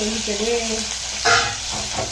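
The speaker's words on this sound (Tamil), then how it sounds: "கட் பண்ணி வச்சுருக்கிற பாகக்காயை போட்டு நல்லா வதக்கிக்கலாம்" Cut bitter gourd sautéing in a pan while cooking a Tamil shraddha kuzhambu, with steady frying sizzle, stirring scrapes and a brief louder hiss, under a voice speaking.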